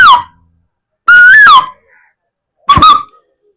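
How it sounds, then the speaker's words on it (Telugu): An Asian koel, the kokila, calls in three separate bursts: a short opening note, then a longer rising whistled phrase, and a final brief note. The clear, loud whistles are set against silence. "ఇప్పుడు కోయిల యొక్క ధ్వనిని వినబోతున్నారు."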